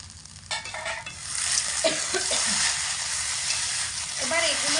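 Fried peanuts tipped into a pan of potato curry frying over medium heat, setting off a loud, close, continuous sizzle with some scraping of a utensil and a faint voice underneath.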